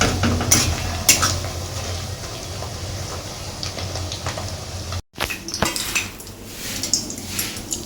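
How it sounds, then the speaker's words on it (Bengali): Butter simmering in a pot to make ghee, cooking until the solids darken, with steady bubbling and frying noise close up and repeated scrapes and clinks of a spoon stirring against the metal. "কালো হওয়া পর্যন্ত ঘি ছাড়তে থাকবে না, এরকম ফুটতে দিতে হবে। ফুটে ফুটে ফুটে ফুটে এরকম হতেই থাকবে।"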